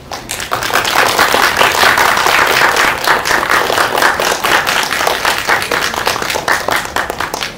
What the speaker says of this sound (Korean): 따뜻한 박수로 맞아주시기 바랍니다.